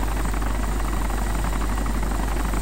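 A helicopter in the video game DayZ drones with a loud, steady rotor buzz and deep low hum, continuous and close with no pauses.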